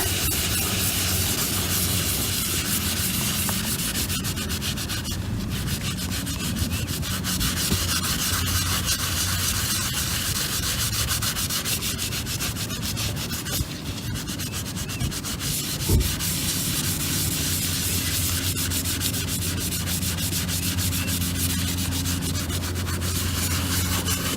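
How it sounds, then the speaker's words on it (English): Rust remover being rubbed hard into a chrome wheel, a continuous loud abrasive scrubbing and rasping with no pause for over twenty seconds, close up and alone. "And now you can start really rubbing this in."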